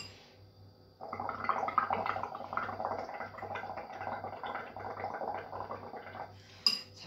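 Bubbles being blown through a straw into a pot of bubble paint, a soft close gurgling and bubbling that starts after a second and keeps a steady burbling rhythm, ending with a brief sharper clink.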